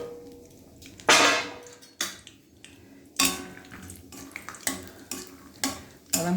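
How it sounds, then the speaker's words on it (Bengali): Peanuts frying in a pan are stirred with a metal utensil, giving loud intermittent scrapes and clanks against the pan over a soft, continuous sizzle, close by and without speech. "বাদামগুলো ভেজে তুলে রাখবো।"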